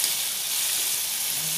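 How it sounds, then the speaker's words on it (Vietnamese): Pickled mustard greens sizzle steadily in a hot pan as they are stir-fried with seasonings, sugar among them, a close, continuous hiss of frying without pause. "Thì mình sẽ xào nó lên."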